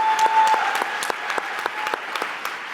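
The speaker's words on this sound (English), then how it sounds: "We want to see you and applaud you." Short burst of audience applause at an education event, a handful of distinct sharp claps rising from a steady clatter that thins out, fairly close, no talk.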